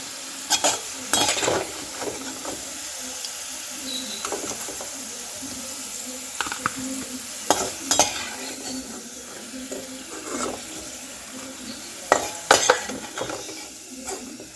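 Potatoes fry in hot oil in a pan, a continuous sizzle broken by repeated clinks and scrapes of a spatula stirring against the metal, close and busy throughout.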